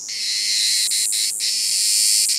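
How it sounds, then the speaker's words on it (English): Loud, continuous high-pitched buzzing of cicadas, close and intense, with a few brief pulses breaking the steady drone. "It says here that cicadas are the loudest of all insects."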